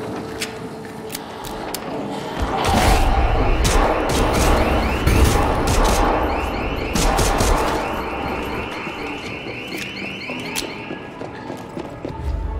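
Pistol gunshots in the zombie game Dead Island 2, a run of sharp cracks spaced irregularly through busy combat noise, with heavier impacts and a steady background of game sounds.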